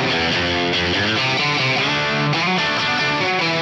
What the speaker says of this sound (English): I'm using a plex delay effect type that was added recently called detuned space 2. This is just gonna kind of thicken everything up